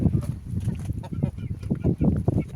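A hen waiting to be fed clucks and murmurs in quick, close, uneven bursts, with a little background noise.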